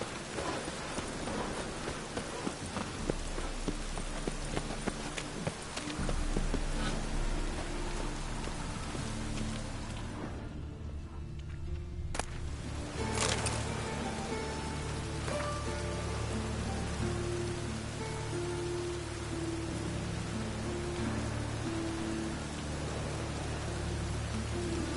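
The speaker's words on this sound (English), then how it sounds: "And it's raining again." Steady rain pours in The Witcher 3 Wild Hunt, a constant, fairly close hiss of drops on surfaces that carries on throughout with a brief dip midway, with no speech.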